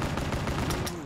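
Pistol shots in Black Ops 3 zombies mode, a quick run of sharp gunfire cracks packed closely together, moderately loud, with no talking.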